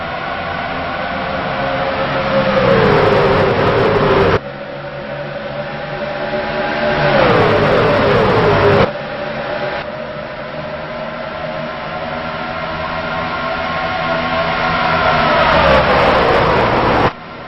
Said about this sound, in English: enjoy the final crank up of the trucks here at Vegas